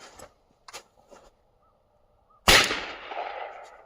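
A single loud, close 16 gauge shotgun blast cracks out after a quiet stretch with a few faint distant knocks, followed by a rolling echo that fades.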